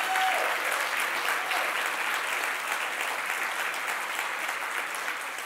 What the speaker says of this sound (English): Let's give a round of applause for our seniors.